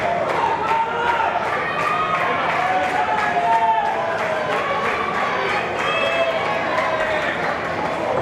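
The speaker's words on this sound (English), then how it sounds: "this capacity crowd in Hialeah trying to rally behind the champ" Capacity crowd at a wrestling show in Hialeah rallying behind the champion, a steady roar of cheering with rhythmic clapping and stomping, under a commentator's talk.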